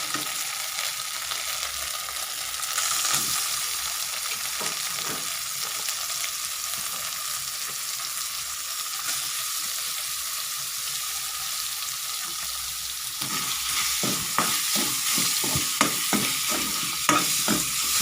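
Pork stir-frying in red curry paste in a hot pan, a steady loud sizzle with scraping spatula strokes that grow busier and more rhythmic toward the end.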